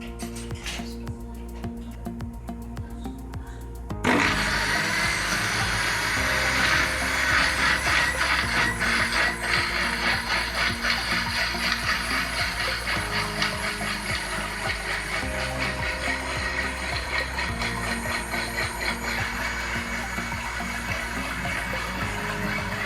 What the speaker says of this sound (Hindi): और ये मैं साथ ही इमली का पल्प डाल रही हूँ। इसको हम अच्छे तरीके से ब्लेंड कर लेते हैं।